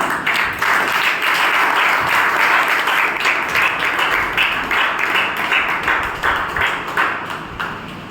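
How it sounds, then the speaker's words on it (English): An audience at a Toastmasters club meeting claps for a speaker being introduced, bright continuous applause lasting several seconds and slowly thinning toward the end. "Please have a big round of applause for Dheeraj Singh"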